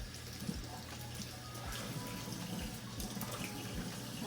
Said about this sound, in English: I'm gonna rinse these off too